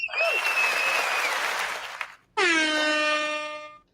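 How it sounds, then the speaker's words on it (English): Audience applause at an indie music show, a burst of crowd clapping and cheering with a whistle, cut off by a loud air horn blast at the end. "A round of applause."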